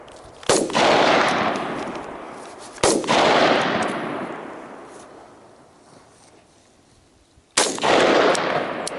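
Shots are fired at heavy steel targets on an overland shooting course. Three sharp, loud reports come at uneven intervals, and each one is followed by a long echoing decay across open ground.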